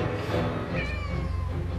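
A cat meows a couple of times over a low, steady vacuum cleaner rumble, fairly close.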